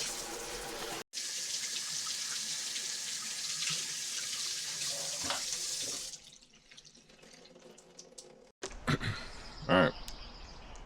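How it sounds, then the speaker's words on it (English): Tap water runs steadily over a bear skull being rinsed, a broad continuous splash that cuts out briefly, fades to a quieter trickle, then returns with louder close splashing and dripping near the end. "I'm gonna rinse this off and look and see what it looks like."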